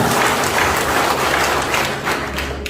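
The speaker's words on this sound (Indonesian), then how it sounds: "tepuk tangan dong buat ya" An audience at a business opportunity presentation applauding, a dense, continuous wash of many hands clapping at moderate loudness with low room rumble underneath and little speech.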